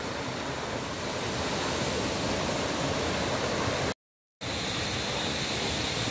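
Steady broadband rushing water of Wisik-Wisik Falls in Aurora roars continuously, with a brief total dropout near the middle before the rush resumes.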